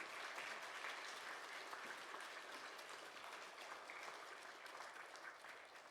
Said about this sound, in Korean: 따뜻한 박수로 환영의 박수를 한번 보내드리도록 하겠습니다